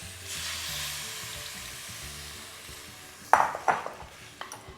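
Tamarind water poured into a pan of sizzling sardine and mackerel fish curry, a steady hiss that suddenly flares with sharp splashing bursts and a few clinks of a utensil, with no talking.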